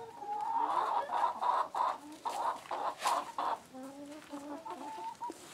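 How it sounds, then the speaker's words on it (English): Backyard chickens cluck and chatter close by in a rapid, continuous series of bursts, some calls rising into higher squawks, with no talking. "It's about time to put the chickens in for the evening."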